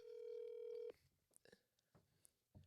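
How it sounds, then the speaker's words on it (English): A phone dials out for a call on a podcast. One steady dial tone holds for most of a second, followed by several short, quieter clicks and blips. "So we're doing another phone call just for you guys."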